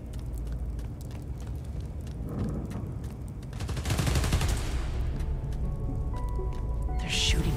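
Rapid gunfire crackles through a busy battle scene in Spider-Man: Miles Morales, with bursts of automatic shots and heavier booms over a constant rumbling bed.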